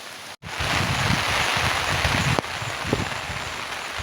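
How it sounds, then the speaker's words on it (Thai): A creek swollen full after rain rushes past with a strong, steady hiss and gurgle of flowing water, close and continuous apart from a brief cut near the start. "ตอนนี้พามาดูน้ำห้วย น้ำเต็ม ห้วยแล้วเด้อตอนนี้น้ำไหลแรงอยู่"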